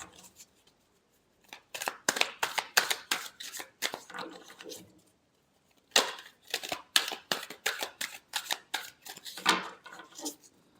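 Tarot cards being shuffled by hand in two long bursts of quick, crisp riffling flutters, close and fairly loud, with a short pause between them and no talking.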